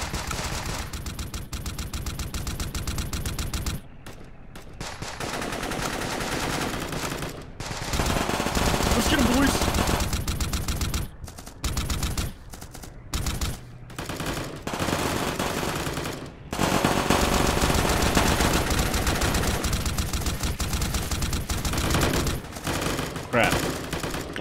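Video game weapon fire in long, loud bursts of rapid automatic gunfire, broken by short pauses, with a person talking at times over the shooting.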